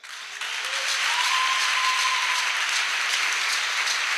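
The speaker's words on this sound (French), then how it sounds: "Une acclamation au Seigneur." A church congregation applauds in acclamation to the Lord, a steady, loud wash of clapping that swells after a brief start and holds even throughout, with a faint tone gliding through early on.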